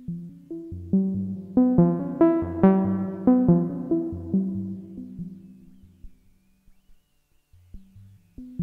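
Synthesizer demo of VCO and LFO sync: a sequence of bright, buzzy pitched notes steps along in a rising then falling pattern, fades toward silence, and resumes with a few low tones at the end.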